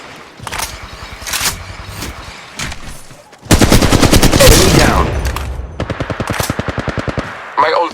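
Loud automatic gunfire in the mobile game Apex Legends Mobile, with scattered bursts at first, then a long sustained volley and a rapid regular string of shots near the end, with game voice lines mixed in.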